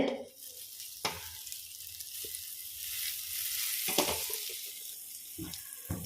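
Steady crackling sizzle of butter in a hot pan, broadband and continuous, with a few sharp clinks of utensils against the pan.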